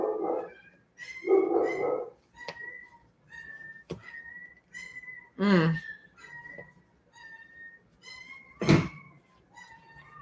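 Dogs barking indoors at home, sharp barks and yips bursting out at irregular intervals close by, with thin whiny, whistle-like tones between them.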